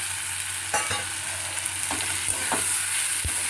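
Rohu fish pieces and potatoes sizzle loudly in a pan, close up, while a spatula scrapes and knocks against the pan several times. No one talks.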